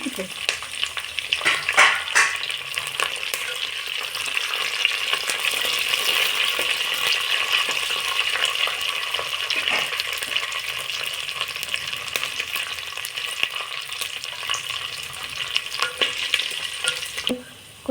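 Curry leaves and dried red chillies frying in hot oil for horse gram soup give a dense, continuous close sizzle with occasional sharp crackles and spatters, steady and fairly loud throughout, no voices.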